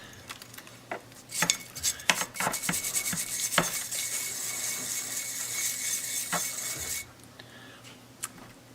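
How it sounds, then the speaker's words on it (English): Rust being scraped off an old heirloom tool: repeated rasping, metallic scrapes with sharp clicks, close and fairly loud, continuous for several seconds before stopping, with no talk. "just scrape this off and see what comes off"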